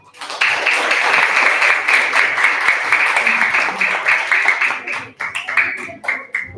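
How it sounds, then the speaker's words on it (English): Audience applause for teenagers at a school showcase night, sustained clapping from a room of people that holds steady, then breaks into scattered final claps near the end. "Another round of applause for them."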